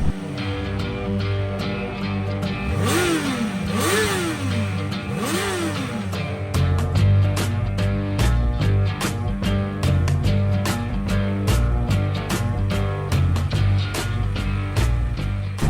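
A 2023 Can-Am Spyder F3-S Special three-wheeler engine idles, then revs up and down in three rising-and-falling sweeps. After that it settles into a loud, steady, pulsing idle, close and with no talking.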